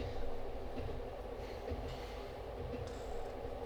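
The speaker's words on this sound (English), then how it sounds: "I'll have a nice ride inside a lovely warm train like this is." A passenger train in Train Simulator, the Pontypandy Thumper, runs with a steady, fairly quiet rumble and faint rail noise. A few light clicks and a brief high squeal come through, with no voices.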